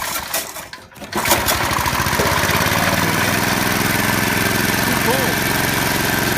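An old tiller engine fitted with electronic ignition is pull-started: a short rough crank, then the engine catches and settles into a loud, steady, buzzing run that continues to the end.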